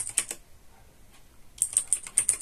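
Quick bursts of computer keyboard typing while a terminal command is entered, a rapid cluster of crisp clicks, a brief pause, then another run of keystrokes, close and clear with no talking.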